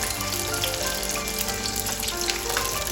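Chicken nems cooking gently in a pan of hot oil give off a dense, even crackle like light rain that carries on without pause, close and fairly loud.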